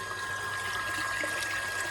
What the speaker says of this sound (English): Yeah, you can hear the pump.